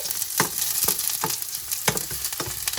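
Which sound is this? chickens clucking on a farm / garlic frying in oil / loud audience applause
garlic frying in oil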